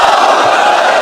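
A large rally crowd of Pakistani supporters roars a religious slogan, Allahu Akbar, in unison: a dense, loud, sustained mass of voices shouting together with no pause.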